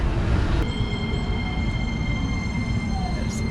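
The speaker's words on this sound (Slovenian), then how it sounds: "Tramvaj vstal kar na cest." A tram running along a city street in Tallinn, a steady close rumble of wheels and motor with faint high squeals over it, no talk.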